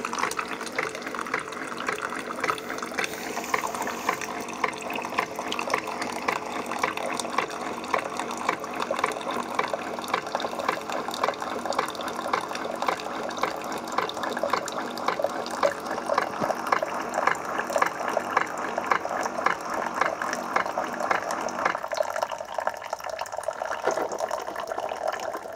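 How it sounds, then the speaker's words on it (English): A Keurig 2.0 coffee maker pours hot water in a steady, continuous gushing stream with pump hum beneath it, loud and close, holding for about twenty-five seconds without talk. "As you can see, hot water is coming out right down here."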